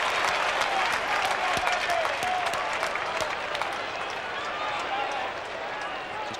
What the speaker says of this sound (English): His first goal, and his teammates and the crowd love it.